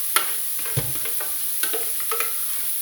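Minced vegetables for a red-wine bolognaise sautéing in a pan, a steady close sizzle broken by a few sharp spoon-against-pan scrapes and knocks, no voices.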